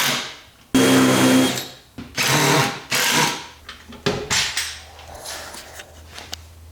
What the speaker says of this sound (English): It took a little practice to make sure I'm drilling straight up.